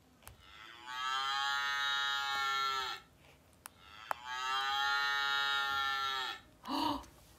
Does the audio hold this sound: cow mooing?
yes